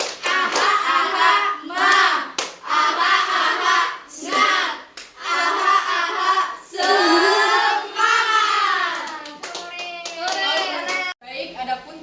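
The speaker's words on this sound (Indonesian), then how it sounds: "Tepuk semangat." A primary school class stands and does a spirit clap, hands clapping in patterned bursts mixed with loud children's chanting and shouting, close and energetic throughout.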